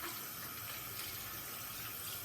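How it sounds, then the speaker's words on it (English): A bathroom sink tap runs steadily during a wet shave lather preparation, a faint, even hiss of flowing water with no break or voices. "I have the tap running."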